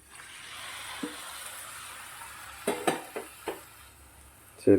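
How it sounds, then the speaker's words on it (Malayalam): Cooked beef being added to dark-roasted masala in a pan for Kerala beef perattu: faint sizzle with several sharp spoon-and-pan clatters and stirring knocks, the last one louder. "ഇനി നമുക്ക് വേവിച്ച് വെച്ചേക്കുന്ന ബീഫ് ചേർക്കാം"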